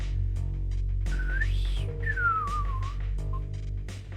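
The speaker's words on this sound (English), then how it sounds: "I could hear a strange whistling sound." A strange, eerie whistle in the video game Misericorde: two clear pitched wavering tones, one rising then a longer one sliding downward, over a steady low background hum, with no talk.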